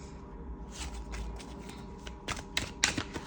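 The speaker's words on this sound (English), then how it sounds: "Oh, let's shuffle." Playing cards shuffled during a tarot-style reading, a run of soft papery riffles and flicks building to a few sharper snaps near the end, close and fairly quiet with no talk.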